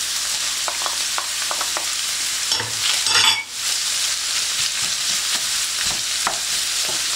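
Onions tossed into a pan of browned minced meat for a homemade pizza topping, frying with a constant bright sizzle, a few light taps of the utensil and a brief clatter midway.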